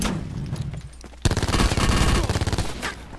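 Gunfire in the battle royale mode Blackout of Black Ops 4: a dense, loud burst of rapid shots erupts after a quieter opening and continues steadily to the end, with no talking over it.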